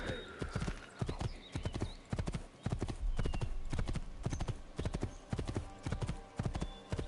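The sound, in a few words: horse hooves in video game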